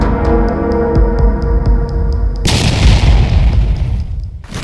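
Drone strikes in a war zone set off secondary explosions, heard as a series of regular thuds followed by a loud, sustained burst of blast noise and rumbling that fades toward the end.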